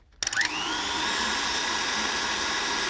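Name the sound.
mixer whisk beating buttercream with a vanilla bean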